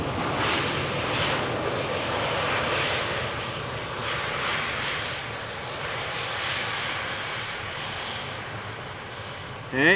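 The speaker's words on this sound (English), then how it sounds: "here is a KLM Embrear." A KLM Embraer jet arrives on runway 18R at Amsterdam Schiphol, its engines giving a steady, broad roar for the whole stretch.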